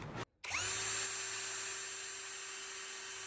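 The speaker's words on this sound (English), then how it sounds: "I just need to drill two holes here, one here, and one here." A power drill boring holes into a trailer side rail, a steady high motor whine that starts after a brief pause and holds evenly, fairly close and alone.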